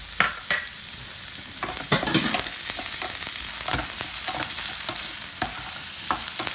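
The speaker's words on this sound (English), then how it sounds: "Our flame should be high. Now add boiled corn or uble hue bhutta." Boiled corn kernels stir-fry in a pan over a high flame, giving a continuous sizzle broken by scraping stirs and sharp clicks of the spatula, close and fairly loud.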